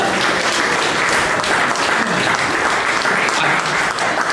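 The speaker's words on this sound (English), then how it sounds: "Give a lady a big round of applause." Steady, dense applause from an audience greeting a female volunteer at a live comedy show, loud and continuous throughout with no speech over it.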